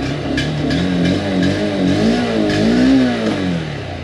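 A 2022 Honda Hornet 2.0 motorcycle revs close by, its exhaust note rising and falling in several loud throttle blips over a steady engine rumble, with no voices.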